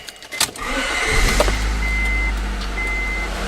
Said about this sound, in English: Next, you want to start the vehicle up.